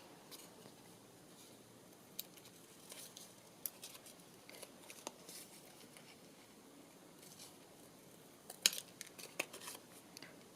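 Scissors snip the corners off paper in short, scattered cuts with small crisp clicks over a quiet room, close and soft, and nobody speaks.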